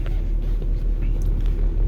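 A 2010 Mercedes E63 with 263k km runs at full throttle, a deep, steady engine roar filling the cabin throughout, loud and continuous with no voices.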